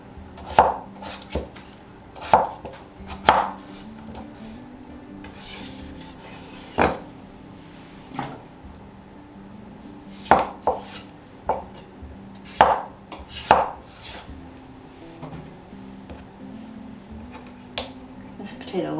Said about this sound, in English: I'm just cutting into chunks and throwing into the slow cooker